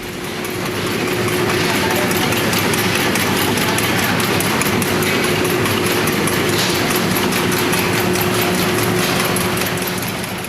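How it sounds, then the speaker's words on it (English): A high-speed flat-type lollipop production line, model YGB350, runs continuously as a rotary knife cuts candy rope into pieces, giving a dense, loud mechanical clatter and hum with a rapid repetitive ticking, with no voices heard. "And then the candy rope will be cut by this knife. This knife is rotary running, and the candy drops in this hose one by one."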